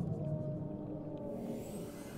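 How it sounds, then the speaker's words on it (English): A creature in the underwater game Subnautica lets out a low, drawn-out roar, faint and distant, with a whale-like tone fading over about two seconds. "Yeah, did you hear that roar?"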